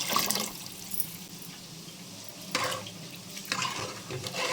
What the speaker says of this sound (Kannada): ಇನ್ನೂ ಒಂದು ಬಟ್ಲು ನೀರು ಹಾಕ್ಕೋತೀನಿ